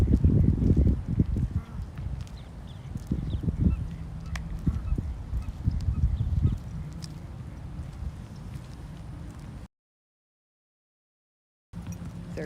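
Geese honk outdoors in central Florida, a cluster of loud nearby calls early on that thins into scattered, fainter cries over steady open-air ambience before a brief gap.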